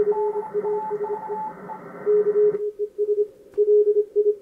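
Two Morse code CW signals from adjacent stations received on a Kenwood TS-440S ham radio transceiver, steady keyed tones at two different pitches overlapping, then one fading out leaving a single pulsing tone, with faint static between.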